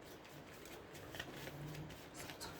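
Tarot cards are shuffled softly and close by, producing faint papery riffles and light slides with a few brief flicks, in a quiet room with no talking.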